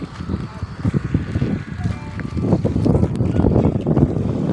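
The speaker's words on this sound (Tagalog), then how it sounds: "Lakas ng hangin" Strong wind buffets the microphone at Honda Bay, Palawan, with a steady low rumble, loud and continuous, while people talk faintly underneath.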